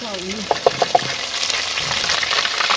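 Ginger and tomato paste frying in a kadai, a bright continuous sizzle close up, with a few short stirring knocks near the start and a brief voice at the opening.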